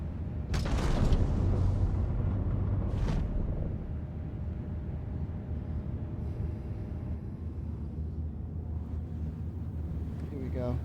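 Wind blows in the Star Citizen video game as a steady low rumbling gust, loud at first with a couple of sharp bursts, then settling into a softer continuous drone.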